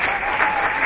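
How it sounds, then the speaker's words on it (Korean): Applause from an audience at an arts school entrance ceremony in a hall, a dense, continuous wash of many hands clapping for a brief moment. "박수 부탁드리겠습니다."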